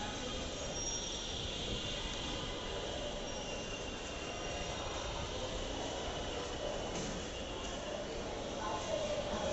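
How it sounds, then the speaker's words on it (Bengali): A metro train at a crowded station platform produces a steady, loud rumble and hiss that fills the whole stretch, with faint crowd noise around it. "ট্রেনগুলো থামে"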